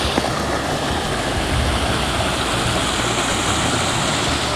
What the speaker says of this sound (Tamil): இன்னும் தண்ணி ஜாஸ்தியாக குதிக்குது